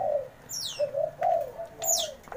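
A spotted dove (tekukur) coos in short repeated phrases, fairly close and clear, with a few high chirps from other birds mixed in over a quiet background.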